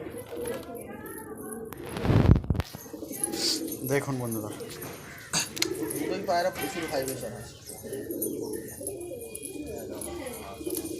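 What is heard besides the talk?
pigeons cooing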